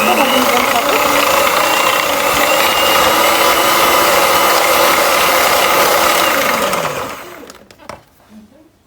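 An electric hand mixer whirs loudly and steadily as it beats ingredients for a quick chilled dessert, then winds down and stops near the end, leaving a few faint clinks.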